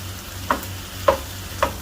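Boiled potatoes cut into small cubes cook in a pan over low heat, with three soft, evenly spaced taps of stirring over a faint, steady low hum.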